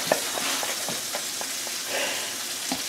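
Sausages sizzle steadily in a frying pan, a continuous crackling hiss with small pops scattered throughout, close and moderately loud with no talking.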